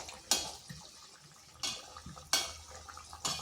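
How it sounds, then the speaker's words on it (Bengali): A utensil scrapes and clinks against a pan while flattened rice (chira) fries, with four sharp scraping strikes spaced irregularly over a quiet low sizzle. "এইভাবে নেড়ে চেড়ে ভেজে নিচ্ছি।"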